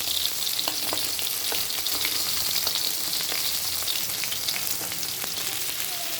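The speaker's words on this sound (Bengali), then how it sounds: "আর এক পিঠ ভাজা হচ্ছে" Fish, a bata fish, fries in a pan of hot oil, giving a dense, continuous close sizzle with scattered small pops and crackles and no voices.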